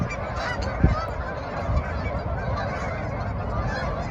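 A flock of geese honking continuously at close to middle distance, with overlapping calls and a couple of louder honks standing out.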